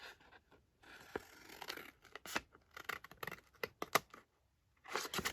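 Master board being cut by hand, a series of irregular crisp snips and scratchy tearing strokes in short bursts separated by pauses, close and fairly quiet with no talking.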